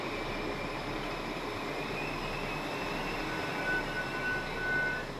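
A regional train departs a station toward Neustadt, rumbling steadily at a distance with a low mechanical drone and faint high whine, a brief tonal beep near the end, no voices.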